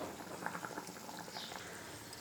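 Spiced masala water bubbles at a rolling boil in a cooking pot for potato-eggplant curry, a soft, steady simmering hiss with faint pops, quiet and continuous throughout.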